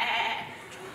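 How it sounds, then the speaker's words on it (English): A sheep bleats in one sustained, fairly loud cry lasting about a second, close to the listener, with no other sounds around it. "innocent little sheep."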